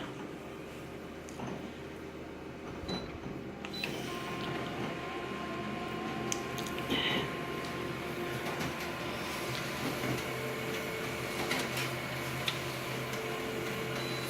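A home printer printing pamphlet graphics: a quiet, steady mechanical whir with light repeated ticks and clicks as the paper feeds, faint and alone with no talk.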